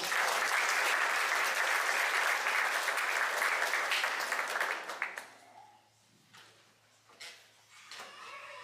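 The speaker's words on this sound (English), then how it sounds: "One more round of applause for these ladies." Audience applause at a school athletic sports banquet: dense clapping from a crowd fills the room for about five seconds, then fades out, leaving quieter scattered room sounds and brief bumps.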